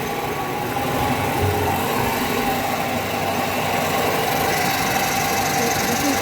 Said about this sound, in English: So this is the compressor starting.